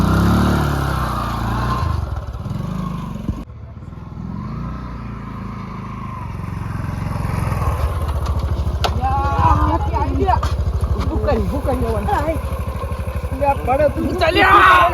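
A motorcycle with no working lights runs on a rural road at night, its engine a steady, close rumble. Several people talk and shout over it throughout.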